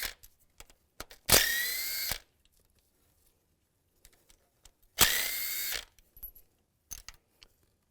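A ratchet with a 10mm socket backs out timing chain cover bolts on a 2002-2009 Chevy Trailblazer, two quick bursts of clicking heard up close, separated by quiet handling noises and light clanks.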